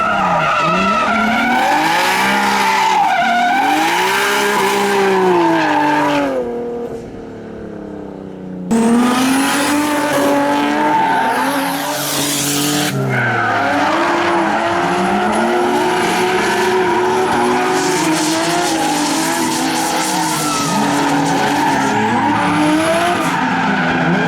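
A 550HP Nissan Skyline drift car laps a track, its engine screaming through repeated revs while the tires squeal and skid loudly, with a brief lull partway through before the sustained roar returns.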